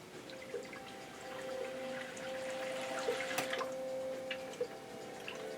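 Coolant trickles into the reservoir of a custom PC water-cooling loop, a faint, quiet pour with small drips and ticks over a steady pump hum.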